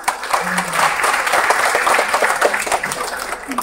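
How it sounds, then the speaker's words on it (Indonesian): A crowd applauding steadily at a kindergarten graduation in Batam, Indonesia, with dense, continuous clapping throughout, fairly loud and close, a few voices faintly underneath. "Tepuk tangan dong untuk RAA Taqwa"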